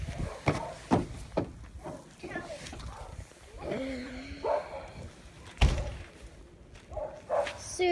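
A puppy lets out several short, sharp barks and yips at irregular moments, mixed in with people talking nearby and an occasional thump.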